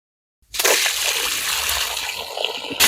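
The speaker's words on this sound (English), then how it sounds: "we extended the plumbing to bring water directly to the raised beds" Water gushes suddenly from newly extended plumbing into garden raised beds at a renovated Spanish house, a loud steady splashing flow after a moment of silence.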